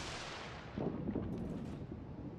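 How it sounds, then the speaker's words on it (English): Torpedoes launching from a warship in the World of Warships video game: a dull, muffled broadband rush that swells briefly and holds steady, distant and low in level. "We're gonna launch torpedoes."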